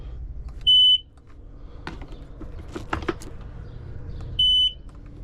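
A Seadoo GS jet ski gives two short, clear electronic beeps when its start button is pressed, spaced a few seconds apart over a low background rumble.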